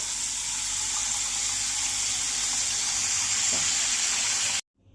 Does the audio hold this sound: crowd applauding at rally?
no